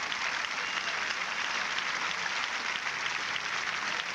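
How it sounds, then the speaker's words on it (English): Crowd applauding steadily at a Roland Garros tennis match after match point in a 1999 French Open semifinal, a dense, even wash of clapping with no breaks across the whole stretch. "see the people stand and applaud both players"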